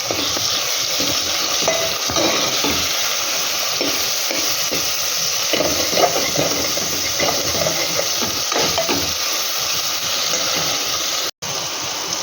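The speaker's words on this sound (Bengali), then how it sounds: "এর মধ্যে বড় চামচে 1 চামচ আদা রসুনের পেস্ট দিয়ে দিচ্ছি।" Ginger garlic paste fries in a pan for Chicken Afghani, giving a continuous close sizzle and hiss with occasional stirring scrapes and a brief cutout near the end.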